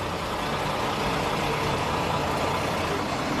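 A truck engine idles in a steady low rumble that fills the whole stretch, loud and continuous with no voices over it.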